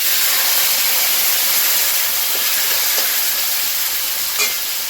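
Bay leaf, cumin, tomato and green chili sizzle in a hot pan, giving a loud, steady, close hiss with faint crackles and no break.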